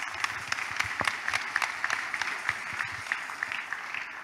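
A church congregation clapping at a service, a steady wash of many hands applauding together with sharper individual claps scattered throughout, moderately distant and alone without talk.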